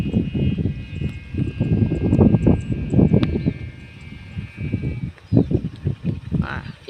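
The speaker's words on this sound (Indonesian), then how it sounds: "Lah itu sendarenya, suaranya." In strong wind at a kite-flying field in Nganjuk, a sendaren kite hummer drones with a steady, thin humming tone for several seconds. Loud, choppy low-pitched gusts and voices rumble beneath it.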